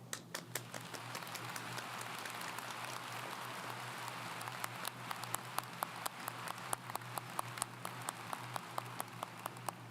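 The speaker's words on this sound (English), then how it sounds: "Please join me now for a global round of applause." Sparse, faint clapping from a small group at a virtual university commencement ceremony, individual claps scattered irregularly over a soft background hiss.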